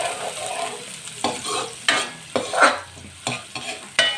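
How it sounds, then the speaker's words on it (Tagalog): Garlic and onion frying in a little oil, a soft sizzle under repeated sharp scrapes and clacks of a utensil stirring the pan at an uneven rhythm. "Siyempre maglalagay tayo ng mantika, kunting-kunti lang. Siyempre, bawang, sibuyas."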